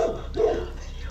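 Dog barks close by, a couple of short yelping barks in quick succession within a brief burst.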